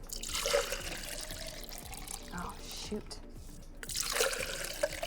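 Water pours in two splashy bursts, one at the start and another near the end, with someone talking over the quieter gap between them.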